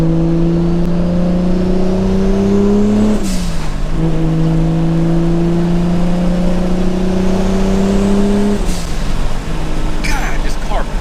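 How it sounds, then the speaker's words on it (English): A car with a rolling anti-lag setup idles loud and steady while warming up, its engine tone rising in two long sustained revs that each drop sharply before settling back, heard up close inside the car. "I'm gonna let the car warm up some here"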